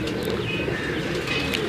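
Pigeons on a rooftop coo softly amid a busy outdoor wash of chirps and ambient noise, the calls blending together at moderate distance.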